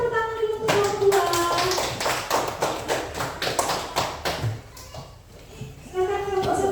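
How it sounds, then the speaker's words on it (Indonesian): A classroom audience gives a round of hand-clapping applause for a student group, a dense spray of quick claps that holds steady, then fades and briefly picks back up. "berikan tepuk tangan dulu untuk kelompok"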